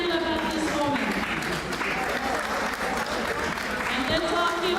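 A conference hall audience at a women's conference in Chuuk State applauds healthcare workers, with sustained, dense clapping and crowd noise throughout and a voice over a loudspeaker sounding through it.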